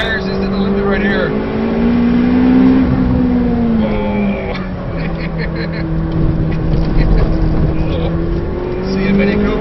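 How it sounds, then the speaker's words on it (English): A McLaren 720S at speed on the Nurburgring, engine droning and shifting pitch with tires near the limit on track, heard from inside the cabin with loud wind and road noise throughout. "You can hear the tires just at the limit right here."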